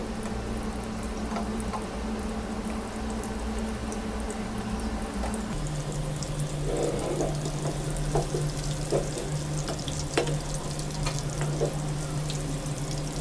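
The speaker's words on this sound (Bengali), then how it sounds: "ভালো করে ভেজে নেব মাছের বড়াগুলো" Pangas fish balls bubbling and frying in hot oil, a steady close sizzle throughout with occasional crackles and pops, and no talking.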